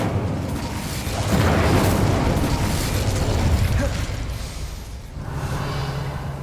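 An Incendio fire spell from Hogwarts Legacy bursts with a loud whooshing blast that swells and then fades, over a low rumbling game background, followed by a second softer surge near the end.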